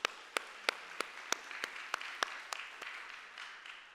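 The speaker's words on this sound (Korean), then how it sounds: "하나님께 영광의 박수" A church congregation claps together in steady unison beats at a Sunday service, about a dozen sharp claps that fade into looser scattered applause after a few seconds, moderately distant and with no voices over them.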